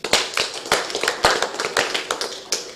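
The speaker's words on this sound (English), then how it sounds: "we also need to clap again." A small audience at a company AGM claps in loose, uneven bursts, with sharp overlapping hand slaps close by and fairly loud for nearly three seconds, with no voices over it.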